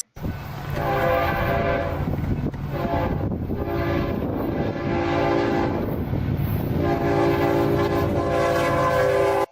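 Train horn from a Minecraft train mod, a loud sustained multi-tone blast sounding almost continuously for nine seconds with brief dips, over a low rumble of rolling carriages.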